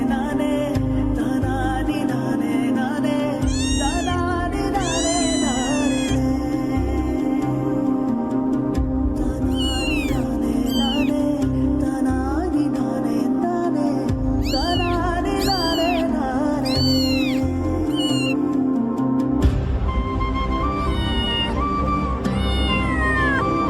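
A cat meowing repeatedly in drawn-out, rising and falling cries, loud and close, in bursts separated by short gaps over a steady low background.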